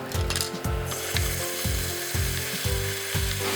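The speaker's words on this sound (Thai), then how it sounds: "เราก็เริ่มด้วยเจียวกระเทียมแล้วก็หอมแดงเลยครับ" Garlic and shallots fry in hot oil in a pan, a constant sizzle overlaid by a regular, rapid mechanical clacking pulse, close and moderately loud.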